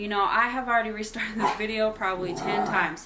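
A pet dog, a female, yips and whimpers in the background through continuous close indoor talk, with short bursts of higher whining rising and falling in the gaps between phrases.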